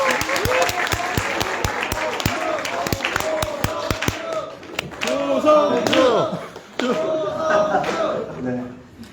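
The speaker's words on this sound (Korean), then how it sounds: "힘찬 환호로 맞아주시면 감사하겠습니다." Audience at a political party's founding convention clapping and cheering to welcome a speaker, with sharp individual claps early and crowd cheers swelling in waves. Voices come over a PA system.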